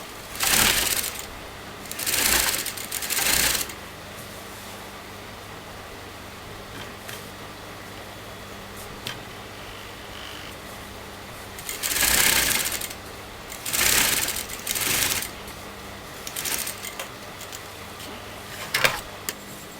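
Sewing machine stitching a kurta seam in several short, loud bursts of rapid whirring separated by quiet pauses, close by.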